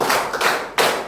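Classroom students clap their hands in unison, three sharp, evenly spaced claps, close and loud, with no talking.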